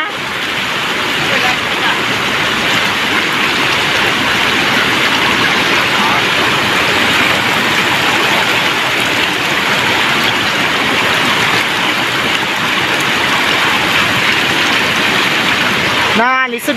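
Strong floodwater rushes in a loud, constant broadband roar that fills the whole stretch close by, with a voice cutting in briefly near the end.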